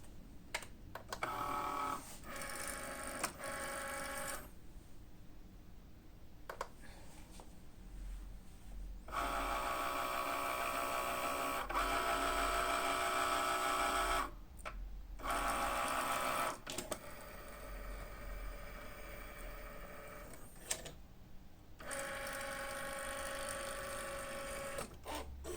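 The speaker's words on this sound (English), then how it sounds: "So just feed into the machine." A Cricut cutting machine scoring light blue cardstock, whirring and buzzing in long motor runs broken by short pauses and clicks as the carriage moves.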